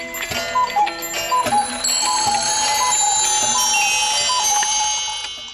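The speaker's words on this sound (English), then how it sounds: "The clock hath stricken 8." A clock's bell chimes ring out in a steady sequence of struck tones, loud and close, part of a staged comedic Back to the Future parody, with no talking over them.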